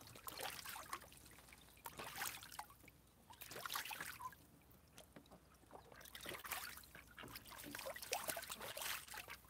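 Pet ducks splashing about in a water tub, with repeated wet splashes and flicks of water coming in bursts, fairly close and moderately loud.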